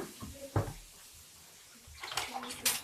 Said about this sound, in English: pours clean water over the ribs.